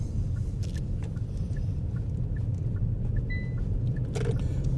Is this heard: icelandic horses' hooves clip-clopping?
no